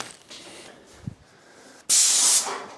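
Airless paint sprayer set to just over 1,000 psi releases a loud, sharp burst of hissing spray lasting about half a second, following a quiet stretch with a faint click.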